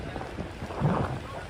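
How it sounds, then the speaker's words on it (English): Rain falling in New York City during a storm, a steady wash of raindrops with a low rumble swelling briefly midway, heard without speech. "And now it is raining a little bit."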